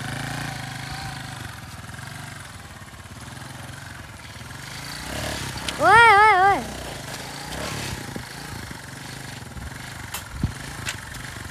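A motorcycle engine idles steadily in the background while a voice shouts a short rising call over it, with other people talking.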